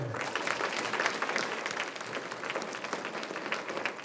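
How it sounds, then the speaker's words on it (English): Audience applause for a school choir at an elementary school spring concert fills the hall, a steady wash of many hands clapping throughout, moderately loud with a faint murmur of voices underneath. "Another round of applause for Mr. Fortune and the choir"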